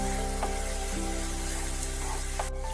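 Sago for pulao fries in a hot pan with a steady, dense sizzle, and occasional soft scrapes from stirring run through it.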